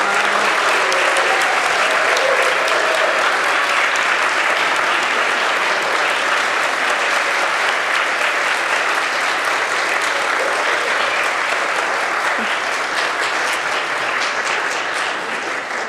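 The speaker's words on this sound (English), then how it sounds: "Let's give them another round of applause." A church congregation gives a long, loud round of applause, dense steady clapping that carries on evenly throughout.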